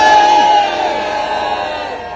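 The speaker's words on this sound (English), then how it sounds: "I'm glad that you're booing at that." A protest crowd on a mothers' march over childcare costs boos loudly and close, a sustained mass of jeering voices that swells at the start and then holds steady.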